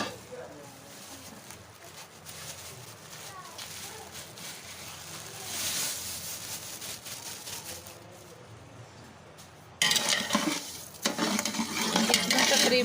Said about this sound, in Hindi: मैं इसमें